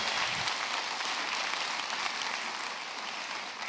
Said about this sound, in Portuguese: uma salva de palmas para os organizadores do evento